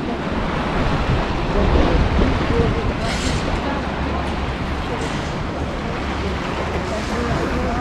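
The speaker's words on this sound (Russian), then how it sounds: "вот она, утро на пляже." Morning sea surf at the central beach of Lazarevskoye near Sochi, a steady wash of waves mixed with wind buffeting the microphone, continuous and fairly loud with no clear voices.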